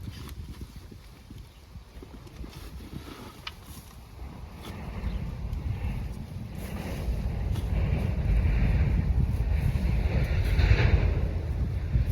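Strong dry-season wind gusting across open ground, a steady low roar that builds and grows louder through the second half, with buffeting rumble against the microphone and no voices.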